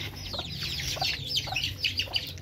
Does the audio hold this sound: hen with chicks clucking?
yes